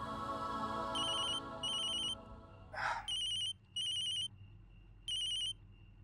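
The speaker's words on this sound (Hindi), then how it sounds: "मैनेजर का फोन।" A telephone ringtone goes off in several short, evenly spaced bursts of bright electronic tones. Soft music fades out underneath at the start, and one brief whoosh breaks in partway through.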